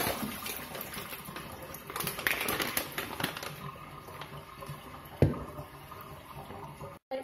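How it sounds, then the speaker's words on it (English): Water splashing and trickling as it is poured out of a bowl of shrimp in a kitchen, uneven spattering bursts with a sharper clatter partway through. "we're just going to dump out all the water"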